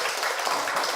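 Brief burst of audience applause at an academic economics symposium session, a short, dense patter of clapping at steady volume.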